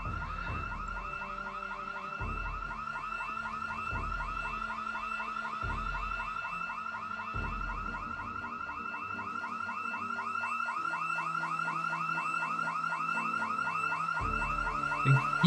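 A house alarm blares in the zombie survival game Project Zomboid, a loud continuous warbling electronic siren that cycles rapidly without pause, with low thuds and game noises underneath.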